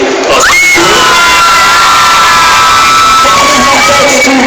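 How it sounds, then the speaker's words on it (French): Girls in the audience at a Paris manga convention scream and cheer at full volume, a dense, high-pitched crowd roar with piercing shrieks rising above it throughout. "je voudrais que les filles fassent du bruit"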